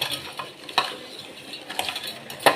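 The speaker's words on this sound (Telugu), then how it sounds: "ఆనియన్లా సాల్ట్ వేసుకొని మంచిగా మిక్సింగ్ చేసుకోవాలి" Sliced onions being stirred and mixed with salt in a pan, with steady scraping and stirring, a faint sizzle and a few sharp clinks of a spoon against the vessel, close and alone without speech.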